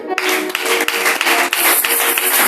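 Congregation clapping during a French-language church service, dense rhythmic claps filling the room continuously and loudly, with no clear speech over them.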